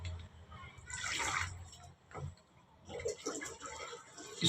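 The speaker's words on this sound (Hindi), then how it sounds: "थोड़ा सा पानी डाल देते हैं।" A little water is poured onto a 1990s Philips music system's cassette player, giving a soft splashing trickle near the start and a brief spatter later, with someone talking quietly around it.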